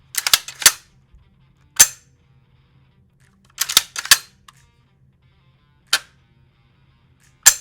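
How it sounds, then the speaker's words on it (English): Tokarev 12GA shotgun trigger pulls and resets: sharp metallic clicks, a couple in quick pairs and others spaced out, crisp and close with no talking. "Here is an example of the trigger pull and reset for both, just for reference."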